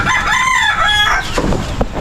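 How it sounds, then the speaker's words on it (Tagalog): A rooster crows loudly and close, one long drawn-out call in a backyard farm setting with Black Australorp chickens, followed by scattered clucks and clatter. "Tandang."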